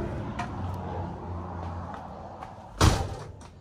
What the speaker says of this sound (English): Just love the sound of the door closing on an Airstream.